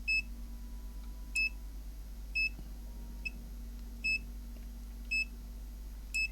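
A GVDA GD107 pen-type multimeter in continuity mode gives short, high electronic beeps, repeating about once a second in a quiet room over a low steady hum.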